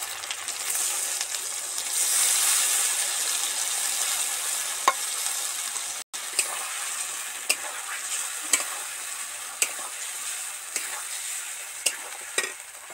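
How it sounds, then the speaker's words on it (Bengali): Turmeric and chilli spice paste sizzles in hot oil for a katla fish curry, a steady bright hiss with sharp scraping clicks from stirring at intervals, close and alone with no talk. "এবার মশলাটা ওই তেলের মধ্যে ছেড়ে দেবো"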